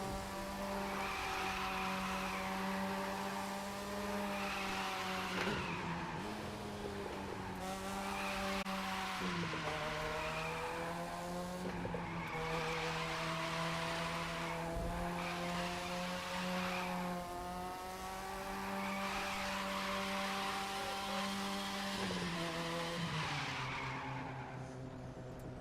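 A car in The Crew 2 racing game revs and drifts, a continuous engine drone rising and falling through gear shifts with long tire squeals through corners, steady and close throughout.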